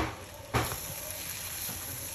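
Shrimp dropped into melted butter with garlic in a pan, a sharp burst of sizzling at the moment they land, then a continuous frying hiss with no talking.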